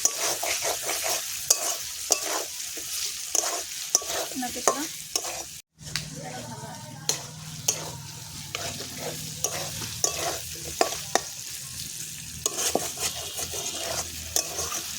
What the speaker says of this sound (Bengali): বেগুনটা দিয়ে ভালো করে একটু কষিয়ে নেবো